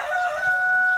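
A rooster crows in one long, steady, tonal call, close and loud, with no voices around it.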